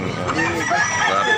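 A rooster, a gamecock for sale at a Tabunok, Cebu market, gives one loud, close crow lasting over a second, with faint background chatter.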